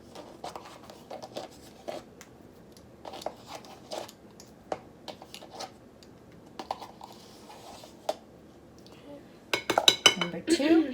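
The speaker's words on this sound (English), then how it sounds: "put both of your yogurts in with the Cool Whip and stir it thoroughly" Spoon clinks and scrapes in a bowl while yogurt and Cool Whip are stirred together, irregular light taps repeating steadily, with a louder burst of clattering near the end.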